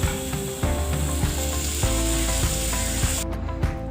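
Golden fried coconut tipped into a mango curry, raising a steady broadband sizzle with soft scraping and stirring knocks, close and fairly loud, with no talk.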